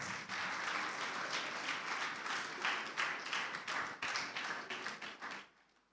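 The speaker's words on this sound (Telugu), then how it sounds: "మనం అందరం చప్పట్లు కొట్టి వారిని ఆహ్వానిద్దాం" A church congregation applauds to welcome a pastor forward to preach on baptism, steady dense clapping that swells in bursts, then fades and stops near the end.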